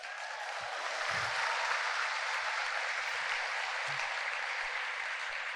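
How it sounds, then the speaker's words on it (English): Applause from an audience at a tech conference fireside chat rises within the first second and holds as an even, distant-sounding wash of clapping with no talk over it. "Round of applause for Innovate Alabama"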